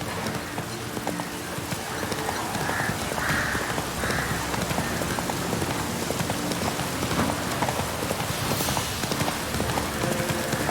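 Roach the horse gallops in The Witcher 3, hooves clip-clopping in a steady, fast rhythm, close and continuous, over a hissing outdoor ambience like light rain.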